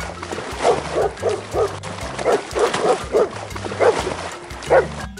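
A dog barks in a rapid, steady series of short yips, close and fairly loud, with soft musical tones underneath.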